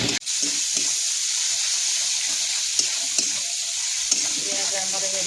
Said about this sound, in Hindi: पियाज लुण हलदी देले ना जल्दी भाजी हो जाए।